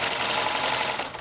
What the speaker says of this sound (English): So serge down that first edge.